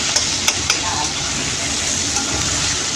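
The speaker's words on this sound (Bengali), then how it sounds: "বরবটি, আলু, পেঁয়াজ সব দিয়ে ভাজা বসিয়েছো" Yardlong beans, potato and onion sizzling steadily in a pan for chow mein, with a few sharp clinks of a spatula stirring near the start, close and fairly loud.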